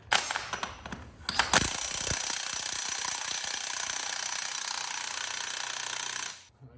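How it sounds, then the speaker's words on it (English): Pneumatic impact gun spinning nuts off with a loud, continuous rattling hammer that runs steadily for about five seconds after a few short bursts, then cuts off abruptly. "I'm going to use the impact gun"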